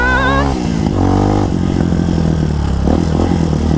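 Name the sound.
2021 TAO Motor TBR7 motorcycle riding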